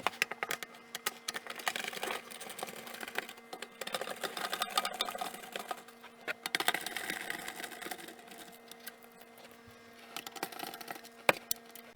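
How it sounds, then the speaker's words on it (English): Screws are backed out of a bracket holding car dash trim in a Honda Fit Sport, giving faint, close, irregular ratcheting clicks and short scraping bursts throughout. "remove the screws that's right here that's holding the bracket to the trim"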